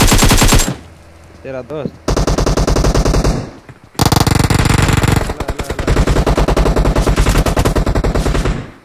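Rapid automatic gunfire in a shooting video game, loud and close, crackling in long sustained bursts with a short lull in the middle, while players shout briefly over it.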